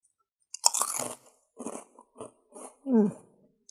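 Crunching bites of a birthday cake flavour Party Snack, a crisp vanilla-scented puffed treat, with several close, dry crackly chews in bursts and a short pause between them.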